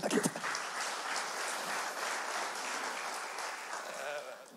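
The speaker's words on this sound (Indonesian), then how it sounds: "Tepuk tangan bagi Allah kita." Congregation applause during a Sunday church service, a sustained, moderately loud wash of many hands clapping that follows a short spoken phrase at the very start.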